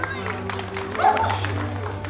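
Brief burst of applause from guests at a grandmother's birthday party, scattered claps over crowd murmur, short and fairly close.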